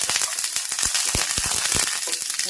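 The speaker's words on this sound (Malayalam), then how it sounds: "അപ്പൊ കടുക് പൊട്ടട്ടെ." Mustard seeds splutter in hot coconut oil in a frying pan for a Kerala village-style colocasia leaf curry, giving dense, close, irregular crackling pops over a steady hiss, with no talking.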